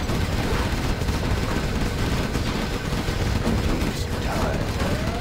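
Tank cannons and gunfire in a strategy video game, a dense, continuous barrage of booming shots and rumbling explosions layered together with no clear gaps.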